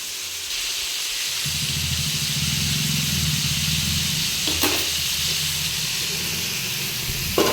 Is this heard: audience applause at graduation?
no